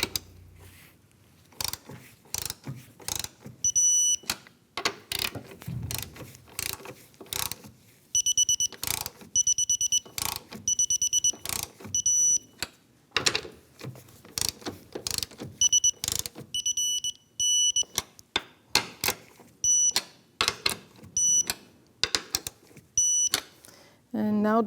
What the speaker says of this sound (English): And now we can freely torque these 3 strut mounts.